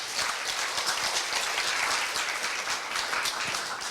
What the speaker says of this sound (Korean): 모두 다시 한 번만 뜨거운 박수 부탁드리겠습니다